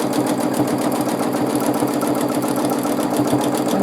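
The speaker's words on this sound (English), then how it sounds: "We are quilting extended swirls." A sewing machine stitches free-motion quilting swirls in a steady, fast, continuous run, its rapid needle rhythm holding close and even throughout with no talking.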